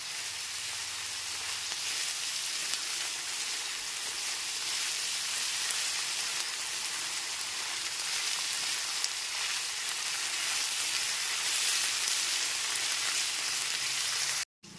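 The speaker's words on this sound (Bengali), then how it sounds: "মিডিয়াম ফ্লেমে পেঁয়াজটাকে একটু লাল করে ভেজে নিতে হবে" Chopped onions fry over a medium gas flame, a constant, even hiss and crackle of oil that continues unbroken for many seconds before cutting off abruptly.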